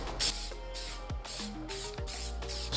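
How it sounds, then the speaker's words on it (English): A can of HyperDip spray coating is shaken between coats on a Mercedes front grill job, giving repeated bursts of rattling hiss with a few faint tonal sounds in the background. "What I like to do is shake in between, just to make sure everything is still"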